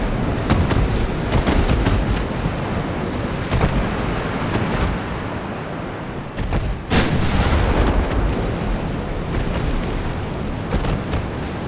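Naval ship guns firing in a video game sea battle, a dense, loud barrage of booms and blasts over constant roaring wave and wind noise, with one sharp standout crack midway.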